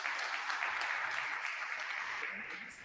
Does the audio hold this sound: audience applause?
yes